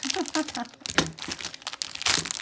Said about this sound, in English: Get that open. It's taped pretty good.